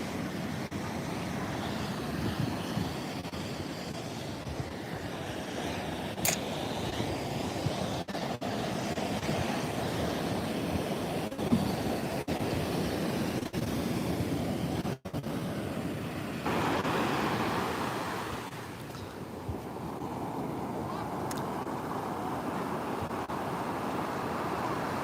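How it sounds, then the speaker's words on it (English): Surf rolls continuously on Legian Beach in Bali, a broad steady wash mixed with wind buffeting the microphone, with no clear break between waves. "This is Legian Beach in Bali."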